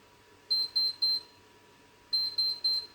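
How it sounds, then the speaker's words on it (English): A heat press timer sounds two bursts of three sharp, bright beeps, evenly spaced, with a brief pause between the sets, loud and clear over a quiet room. "Press the button, stop it from beeping."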